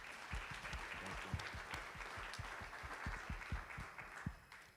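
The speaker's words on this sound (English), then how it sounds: "If we can get a round of applause real quick." Audience applause at a North Nashville murals event, a dense wash of many hands clapping steadily throughout, with a few louder individual claps standing out near the front.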